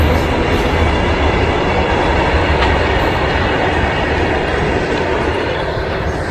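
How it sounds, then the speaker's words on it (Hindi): Train rolling past close by in a village setting, a loud continuous rumble and rattle of wheels on rails that holds steady throughout. "अब ये ट्रेन"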